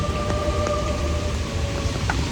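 Steady rain falls in Kurunegala during a Poson holiday outing, a continuous even hiss with a faint steady tone running underneath and no voices.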